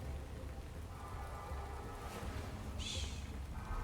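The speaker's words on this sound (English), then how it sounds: "Why is it raining ink?" Rain of ink falls in a video game as a soft, even hiss that carries on steadily. There is no speech, and a brief brighter splash or chime stands out near the end.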